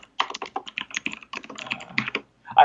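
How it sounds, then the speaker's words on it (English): Rapid, close clattering keystrokes on a mechanical keyboard come in uneven bursts with brief pauses, sharp and fairly loud against a quiet background. "I have a mechanical keyboard."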